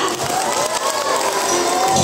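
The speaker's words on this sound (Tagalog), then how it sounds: "Bigyan po natin na masigabong palakpakan" A school audience at an elementary school book character event bursts into loud, dense applause mixed with cheering and children's shouts, a close, continuous roar across the whole moment.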